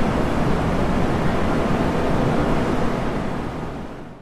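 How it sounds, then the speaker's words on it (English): A bullet train rushing past in a dense, loud roar of wind and rumble that holds steady, then slowly fades toward the end, with no voices. "You got it. It's a bullet train."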